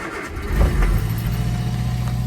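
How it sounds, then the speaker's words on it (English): An Austin Allegro engine cranks briefly and catches, settling into a steady low idle that carries on close up with no voices over it. "let's start it up and bleed the system"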